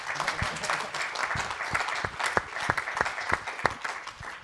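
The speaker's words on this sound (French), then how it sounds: "On peut applaudir nos présidents académiciens" Conference audience applauds the presiding academicians at a science and policy round-table event, with a loose spread of distinct claps, moderately close and fairly sparse.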